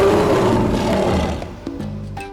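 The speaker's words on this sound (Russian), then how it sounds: "Рычите, мистер Лев." A cartoon lion gives a loud, rumbling roar that fills the first second and a half, then fades into quieter tonal sounds near the end.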